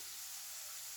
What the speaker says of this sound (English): I'm frying my banana peels.